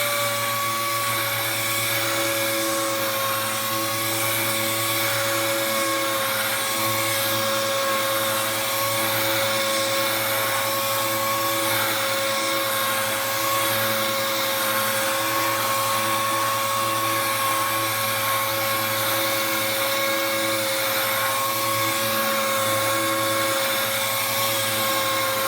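Power sander wet sanding car clear coat with a 5000 grit pad, a continuous loud whirring motor whine with steady tonal hum throughout and no talking.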